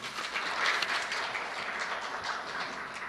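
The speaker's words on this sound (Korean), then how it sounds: "기조 발표를 해주신 조영삼 원장님께 다시 한번 큰 박수 부탁드리겠습니다" Audience applause in a seminar hall after a keynote talk on local archives, a steady broad wash of clapping filling the room for about three seconds, with no voices over it.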